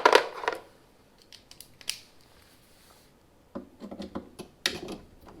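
A socket wrench works loose the motor-mounting bolt on a Maytag Bravos steam washing machine, producing a scrape, then a few soft clicks, and finally a cluster of quick metallic ratcheting bursts near the end.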